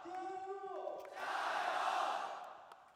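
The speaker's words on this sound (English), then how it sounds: "we got the MC popping off the Tyloo crowd" An esports crowd at a CS:GO Asia Championships semifinal between TYLOO and mousesports swells into a loud, sustained roar and chant, following a rising tone and a caster's voice at the start, then fades away.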